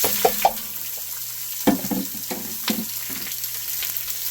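Onion dropped into hot smoking oil in a pot of sausage pasta fagioli, a few sharp crackling bursts then a softer sizzle with scattered clinks and stirring, close by, no speech.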